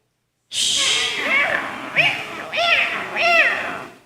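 Children imitate an angry cat with their voices, producing a quick series of close, hissing, yowling meows with rising and falling pitch after a brief silence.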